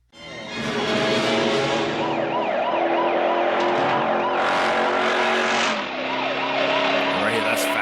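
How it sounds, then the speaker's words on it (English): A police car speeds through parking lots and jumps during a film chase, its engine roaring loud and close with wailing siren sweeps layered over the rush, and a brief dip near the end. "This cop here is like going fast through parking lots and jumps and stuff."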